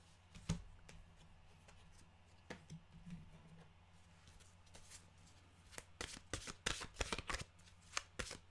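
A deck of mantra cards being shuffled, a faint riffling at first that turns into a dense run of crisp card flicks and snaps over the last few seconds, close and fairly quiet, with no voices.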